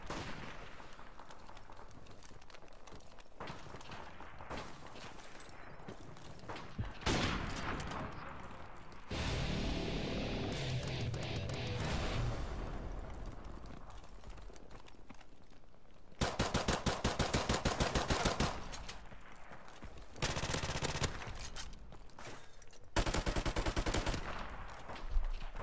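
Rapid gunfire from Call of Duty 4 Remastered in a Gun Game match, with dense bursts of automatic shots and louder clustered volleys near the end. A constant roar of game sound and scattered voice sit underneath.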